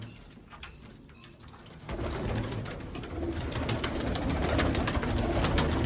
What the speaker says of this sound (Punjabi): ਆ ਕਬੂਤਰ ਵੀ ਆਪਣੇ ਕੋਲੇ ਦੋ ਰੱਤਾ ਕਬੂਤਰ